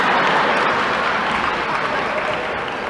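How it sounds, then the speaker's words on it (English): Audience applause in a lecture hall, a dense continuous wash of many hands clapping that fades slightly toward the end. "don't clap too loud"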